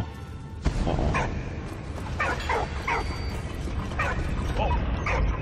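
A dog barks and yips in the World War I video game Valiant Hearts: The Great War, with a run of short, close, repeated barks over a steady rumbling game backdrop.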